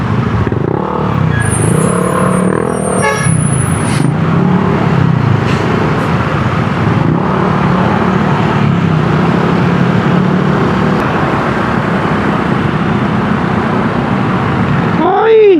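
Loud, continuous road traffic rumbles close by on a busy street, with engines droning and a faint passing whine near the end, while a person talks over it.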